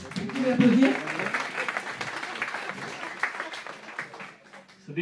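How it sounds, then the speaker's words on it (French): A conference audience applauds in a steady burst of clapping, with a voice speaking over it at the start, tapering off near the end. "Vous pouvez applaudir."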